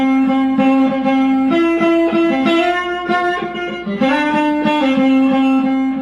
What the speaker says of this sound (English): 2 guitar parts come in that are in harmony with each other